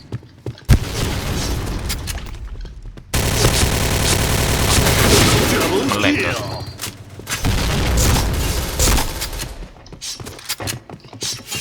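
Rapid F-2000 rifle fire in the game Point Blank, a sustained loud burst of shots running for several seconds, with shorter bursts and isolated bangs before and after.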